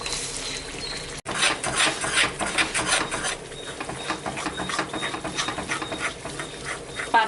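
Red chilli paste stirred and sautéed in sesame oil in a pan makes continuous close scraping and rasping strokes with a steady sizzling hiss underneath and no talking.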